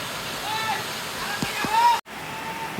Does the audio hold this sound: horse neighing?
no